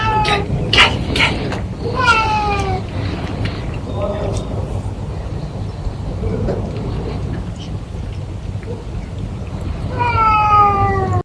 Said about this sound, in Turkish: Kandilli perdesinde arta kalan yemek ve ekmeklerle kedileri besleyen görevli Demir Hüseyin Yazıcı